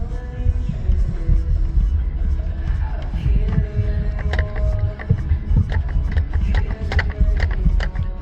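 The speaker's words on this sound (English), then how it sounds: "Spin the hub." The hub of a Brunswick Frameworx bowling pinsetter's lower pulley assembly spins by hand, giving a close, irregular mechanical whirring with repeated metallic clicks and knocks.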